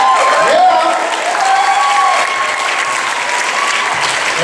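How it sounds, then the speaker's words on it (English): Sustained applause from a pageant audience at Mr. Touro 2011, with loud, continuous clapping and crowd noise throughout and cheering voices mixed in. "Round of applause for TJ."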